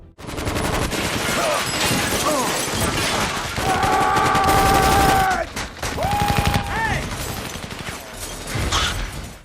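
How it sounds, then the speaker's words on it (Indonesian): A long burst of rapid gunfire in a film scene, shots piling up over a tense music score, loud and continuous, then a brief lull before more firing. "Stan dan anak buah Samidi muncul lalu menembaki mereka dengan membabi buta"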